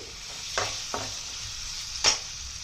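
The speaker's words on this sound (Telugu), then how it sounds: "ఈ కూర ఫ్రై అయిపోయిందండి" Raw banana curry frying in a pan makes a soft continuous sizzle, broken by three sharp scraping stirs from a spatula, the last one loudest, heard up close with no voices.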